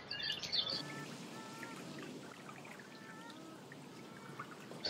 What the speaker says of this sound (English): how the stone makes the water run as if it's a natural stream